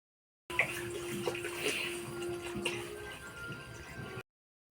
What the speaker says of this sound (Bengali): জল দিয়ে দেন কড়াই।